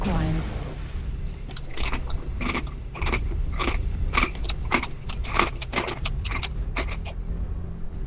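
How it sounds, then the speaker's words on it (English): Mechanical keyboard typing with a crunchy sound, a quick irregular run of close clicks and keystrokes over a steady low background rumble. "Sounded like crunching. Oh, it's my keyboard."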